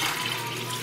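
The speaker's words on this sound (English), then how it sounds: "we need to fill up Deschalnay. Sarah, can you help me? It's our water Berkey filter." Water pours steadily into a Berkey gravity water filter in a kitchen, a close, continuous rushing splash with no pause.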